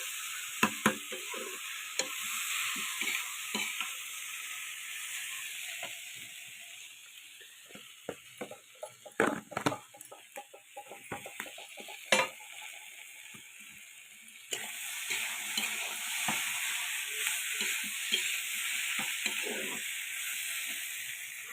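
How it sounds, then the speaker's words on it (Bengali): Potato, kundru, flat beans and eggplant sautéing in a pan, a continuous sizzle and hiss with repeated scraping stirs and clatters of a spatula, close and steady with no talking. "এবার কষতে থাকবে যত কষাটা ভালো হবে তত ভালো লাগবে"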